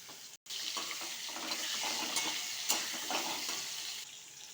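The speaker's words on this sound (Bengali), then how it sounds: "এবার একে একে আলুগুলোকে ভেজে নিচ্ছি।" Potato pieces fry one by one in a wok of hot oil seasoned with cumin and a bay leaf, a continuous close sizzle with occasional stirring scrapes and a brief gap near the start.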